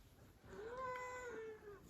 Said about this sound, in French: on a enregistré le chat, j'ai mis quelques petits effets sympas pour avoir une mélodie plutôt rigolote.